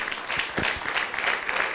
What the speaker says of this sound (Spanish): aplaudimos para recibir la palabra